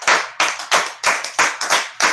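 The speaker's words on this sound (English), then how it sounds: "Clap it up for Newark" Handclaps at a meeting ring out in a quick, uneven rhythm of about ten sharp claps, close and fairly loud, with no voices.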